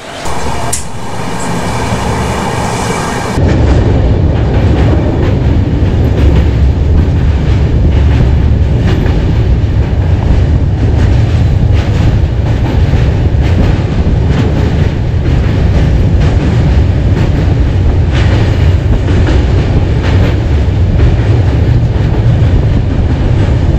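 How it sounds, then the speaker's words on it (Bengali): The Radhikapur–Kolkata Express (13146) passenger train rumbles loudly along the rails after leaving Bandel Junction, with a steady clickety-clack of the wheels and a rattling carriage throughout. "আমাদের ট্রেন ছাড়লো ব্যান্ডেল জংশন।"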